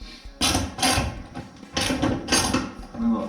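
A ratchet with a 7/16 socket turning a door latch bolt on a Plymouth Cuda: rhythmic bursts of rapid metallic clicking, about four strokes, close and clear with no talk.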